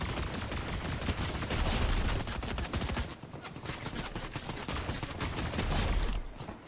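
Rapid gunfire from a video game shooter, dense bursts of automatic shots crackling in fast succession, a short lull near the middle before the firing resumes.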